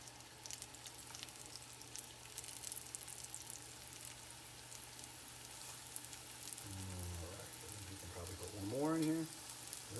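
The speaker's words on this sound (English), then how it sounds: "I'm gonna go ahead and put these on, and they should start to, oh yeah, we're starting to get some browning now" Potstickers frying on high heat in a pan, a steady close sizzle running throughout, with brief talk near the end.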